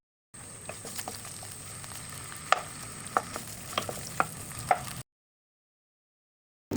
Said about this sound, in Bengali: আমার লাল লাল করে সসেসগুলো ভাজা হয়ে গিয়েছে।